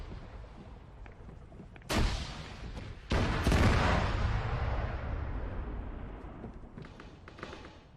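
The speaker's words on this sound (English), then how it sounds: "this damned armed Huron has come back again, shooting the crap out of the tower" Gunfire from an armed Huron helicopter in Arma 3, heard as two sudden heavy bursts followed by a long rumbling barrage that slowly fades, fairly distant and muffled.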